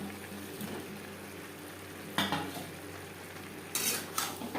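Silver carp pieces being stirred in a pan: a low simmering sizzle underneath, broken by a couple of sharp metallic scrapes and clinks of a utensil against the pan, close by.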